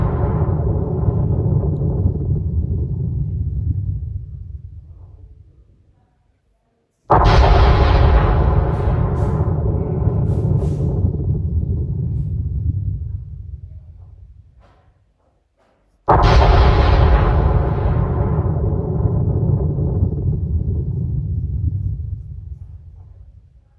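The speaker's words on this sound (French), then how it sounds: "Et comme vous pouvez l'entendre avec la vidéo, donc il y a beaucoup d'explosions." An explosive volcanic eruption: three loud, booming blasts, each erupting suddenly and trailing into a long, deep rumbling decay before the next one, with no talking.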